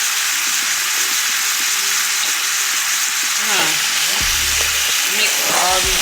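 Taco seasonings, chili powder and sesame among them, sizzle steadily in a hot pan while being stirred, a dense continuous fry hiss with a few scraping stirs near the end and no talking.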